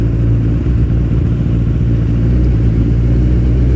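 A motorbike rides through the back streets of Skala, its mid-pitched engine droning steadily and loudly up close throughout, with no talk over it.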